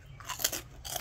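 Crispy food is crunched while eating at a meal of Ilocano diningding, with a few quick, close crunches and chewing sounds in a brief, quiet burst and no talking.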